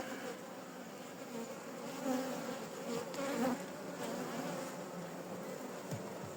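A honeybee colony hums at an open hive, a dense, steady buzz of many bees close by, continuous and fairly loud with no talk.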